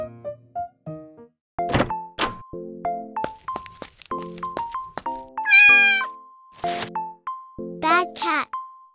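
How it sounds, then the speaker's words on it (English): Cat meowing repeatedly and knocking small objects around, with sharp thunks and light clatters between short meows, close and clear, alongside a voice talking. "Bad cat. It's not a toy."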